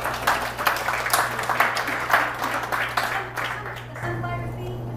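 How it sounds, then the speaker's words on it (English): An audience at an insurance sales seminar claps in a loose, moderately loud round over a steady electrical hum, fading after about four seconds. "Give me a round of applause"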